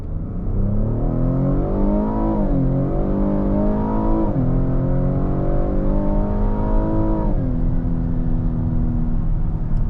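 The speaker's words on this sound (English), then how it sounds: "This is a really, really good sounding engine and exhaust system from the factory." A Cadillac XT6 Sport's 3.6-liter engine revs hard in sport mode and climbs steadily through several gears, with brief dips at each shift. The loud, continuous roar has no talking over it.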